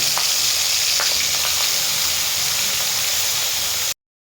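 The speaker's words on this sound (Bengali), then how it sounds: "চিংড়ি মাছটা ভাজা হয়ে গেছে" Giant freshwater prawns rubbed with turmeric and salt fry in hot oil with a loud, steady sizzle and a few soft crackles. The sound cuts off abruptly near the end.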